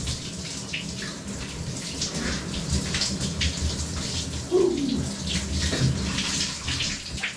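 A cold shower runs in a steady splashing patter of water striking a body and the floor, close up, with a few louder splashes and no talking.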